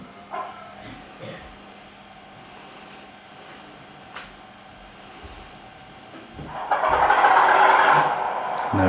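Bachmann Class 37 diesel model locomotive with DCC sound fitted through an upgraded speaker, starting up quietly and then building to a louder, steady engine rumble near the end.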